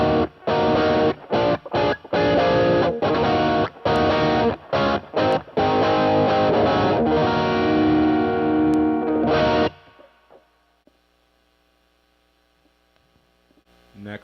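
An electric guitar plays through an amplifier's overdrive channel with EQ controls at noon, loud chopped chords and sustained strummed notes that ring out and cut to near silence with faint hum.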